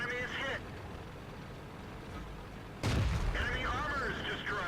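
A tank cannon shot striking a tank in the World of Tanks video game, a sudden loud impact boom partway through over rumbling engine and game noise, with a voice talking before and after.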